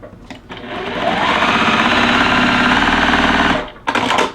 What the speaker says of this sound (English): And I am sewing with a scant 1/4 inch